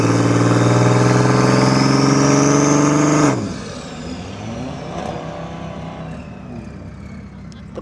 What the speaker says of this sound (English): Oh, of course, our favorite, the Porsche GT3 RS.